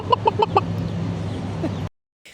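Chickens cluck in a quick run of four sharp calls on a street in Little Havana, Miami, followed by steady low street noise before a sudden drop to silence.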